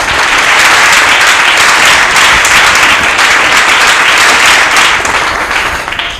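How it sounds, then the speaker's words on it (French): Loud, dense applause from a studio audience at a comedy and arts show in Lubumbashi, a continuous roar of clapping that holds strong before easing slightly at the end. "Nous demandons encore au public de pouvoir applaudir très fort."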